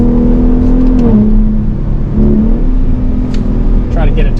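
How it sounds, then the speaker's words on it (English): A 2021 Ford Performance F-150 Raptor's 450-horsepower engine in sport mode gives a steady, loud droning note that rises and dips slightly, heard up close beneath someone talking. "we're in sport mode now, and you can hear that engine note has gotten a little bit louder"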